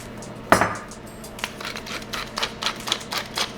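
A salt grinder cranks over a pot of Portuguese kale and sausage soup with beans, giving a quick run of dry, rhythmic clicking and crackling bursts, close and fairly crisp, with no talking.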